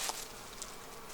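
Honeybees buzzing at a hive in winter, a faint steady high hum with a couple of brief louder swells, no voices.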